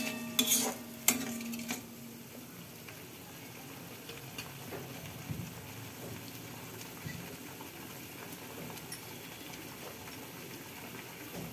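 Spoon stirring and scraping through masala sautéed with a little water in a pan for a Katla fish head moong dal, with a few louder clinks early on, then a steady low sizzle and soft scraping.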